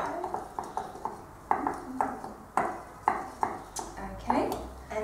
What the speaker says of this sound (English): we'll just stir it in